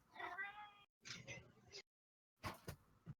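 A cat meows in three loud, close bursts: a drawn-out yowl, a second wavering cry, then a quick double meow after a short silence.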